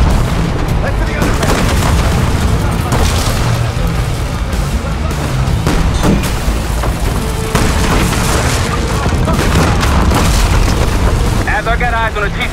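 Tank cannon fire and heavy explosions in the Call of Duty Black Ops 6 campaign mission Ground Control, involving a T-72 tank, a loud continuous barrage of booms under game music and shouted voices.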